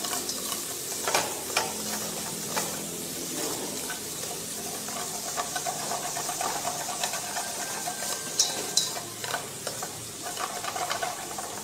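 Stirring a mixture seasoned with fish sauce and sugar in a pan, soft scraping and clinks over a low sizzle, steady and fairly faint with irregular louder scrapes.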